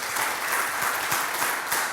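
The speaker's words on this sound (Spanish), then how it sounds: "Denle un aplauso de alabanza al Señor" A church congregation claps steadily and enthusiastically, a dense wash of applause throughout with no talking.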